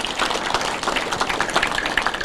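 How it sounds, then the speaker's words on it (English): A church congregation at a rehabilitation gathering breaks into steady applause, many hands clapping in a dense, moderately loud patter that holds throughout. "Clap for yourself."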